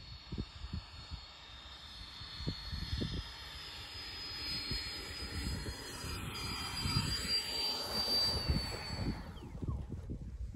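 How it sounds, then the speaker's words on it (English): A 90mm T-45 Ghost Hawk RC model jet from Free Wing with an electric ducted fan, flying and coming in to land, a steady rushing whine that rises and shifts in pitch as it passes, with wind buffeting outdoors. "90mm T-45 Ghost Hawk from Free Wing, guys."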